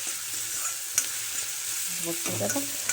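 Onion and garlic fry in oil in an iron kadhai for a village-style potato amti, giving a steady close sizzle with light stirring scrapes and no talk.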